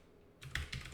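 Typing on a computer keyboard, a short burst of two or three quick soft key clicks after a brief quiet moment, close and fairly faint.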